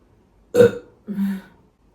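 Two close burps in quick succession, the first short and sharp, the second longer and lower, in an otherwise quiet room.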